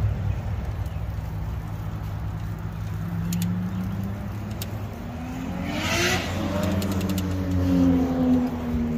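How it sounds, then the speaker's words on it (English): A wide-body Toyota Supra passes along a creek trail, its engine swelling and fading over a steady motor drone, heard at moderate distance without talk. "Wide body Supra."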